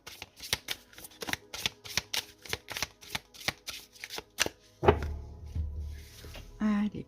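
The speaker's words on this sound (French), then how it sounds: "Je vais prendre une carte de l'oracle Cécioli et 3 cartes du Lenormand." Oracle and Lenormand cards are shuffled by hand in a quick, close, rhythmic run of riffling slaps, then a louder thump and a few softer handling sounds.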